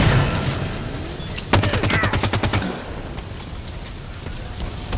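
Gunfire in the Halo 5 video game: a dense burst of rapid automatic shots crackles in the middle of a loud, rumbling battle bed, then gives way to continuing ambient noise.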